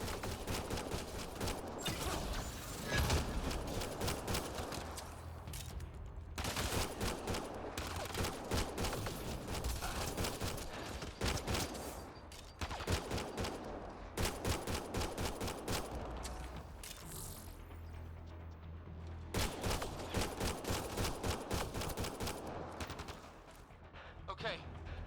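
Gunfire in the video game Mass Effect Andromeda, heavy bursts of rapid automatic shots and fusillades going on and off through a long firefight, with voices talking in between.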